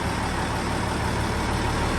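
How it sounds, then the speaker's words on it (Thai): A steady, loud mechanical roar of a Nissan UD truck engine running in place to build air pressure, with a constant low rumble and hiss and no pauses. "อันนี้ปั่นลมอยู่ครับ"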